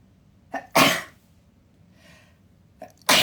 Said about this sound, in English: Sneeze, hold on a minute.